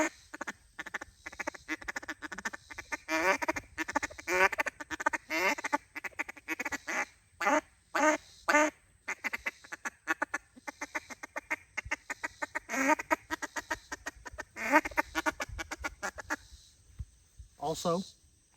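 A duck call is blown in a cutdown sequence: rapid, close runs of chattering quacks in bursts, broken by short pauses and single louder quacks.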